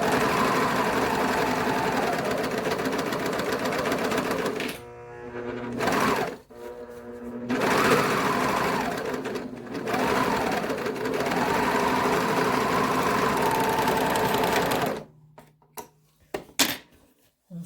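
Sewing machine running a long top seam around an Olson-style center-seam face mask, a steady close mechanical whir broken by brief pauses, then short stop-start bursts at the end.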